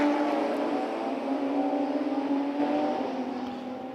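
Radical race cars in the Masters class at Jerez circuit, engines droning steadily at a distance with a sustained mid-pitched whine that slowly fades toward the end, no voices over it.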